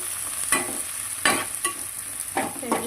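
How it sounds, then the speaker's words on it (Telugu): Onions stirred as they fry in oil in a pan for a spicy chicken curry: a steady bright sizzle throughout, broken by three or four louder scraping stirs of the spoon through the pan, close up with no talk. "లైట్గా కలబెట్టుకోండి, ఎందుకంటే ఆనియన్స్కి మొత్తం ఆయిల్ పట్టాలి కదా."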